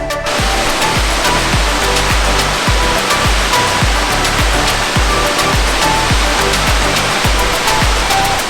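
A waterfall pours in a loud, steady broadband roar heard up close in bush country, with no voices over it.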